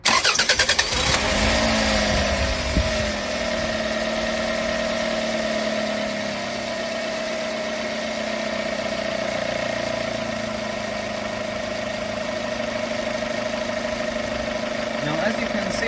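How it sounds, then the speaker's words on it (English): A Toyota car engine cranks and catches, then settles into a steady, even idle that hums on for many seconds at close range. "So now we're going to turn on the engine."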